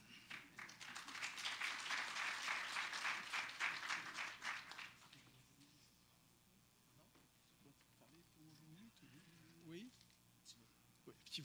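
An audience at a French-language university graduation ceremony applauds the graduates, a dense burst of clapping lasting about five seconds that fades out, followed by quiet room noise and faint voices.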